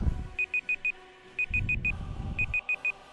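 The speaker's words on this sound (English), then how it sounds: "stop beeping." Repeated electronic beeping from Skyrim Special Edition in groups of four quick high tones, three bursts in a row, with muffled low rumbling noise between.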